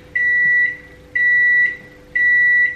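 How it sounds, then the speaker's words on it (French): A microwave oven beeps three times in an even rhythm, with each long, clear electronic tone sounding loud and close over a faint hum as a bowl cake finishes cooking. "vous mettez votre préparation au micro-ondes"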